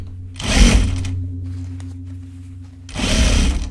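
Two loud, close bursts from a sewing machine stitching a backpack seam, separated by a pause with a steady motor hum in the background.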